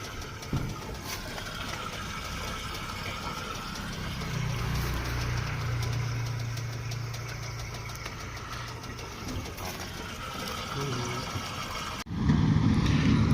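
A small engine runs steadily for the whole stretch with a low, even drone, growing slightly louder midway and then more rumbly near the end.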